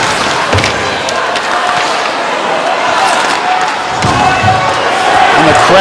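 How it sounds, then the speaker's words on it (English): A crowd roars loudly and steadily at a high school ice hockey game during the Mennen Cup in New Jersey, with thumps from the rink mixed into the noise. "the crowd roaring on every hit and every shot"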